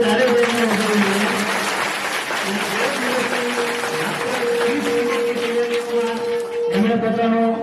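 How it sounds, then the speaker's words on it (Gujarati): A school audience at an Independence Day program applauds after four girls finish a play, with steady, dense clapping throughout, loud and sustained, while voices call out over it. "એકવાર જોરદાર તાળીઓ ગયા ચારે બહેનોને વધાવી જોઈએ"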